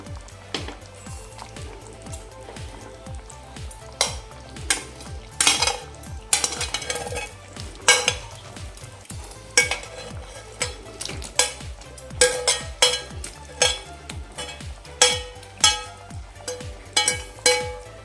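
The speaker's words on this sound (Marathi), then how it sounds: "आता यामध्ये मी चिकनचे पीसेस घालून घेते जे आपण फ्राय करून घेतले होते" Fried chicken pieces are stirred into masala in a pan for a restaurant-style chicken changezi, giving repeated rhythmic spoon scrapes and clinks against the metal over a low sizzle, with no talking.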